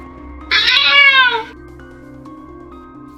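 A black cat lets out one loud, drawn-out meow, close and alone, that fades into a quiet low background hum.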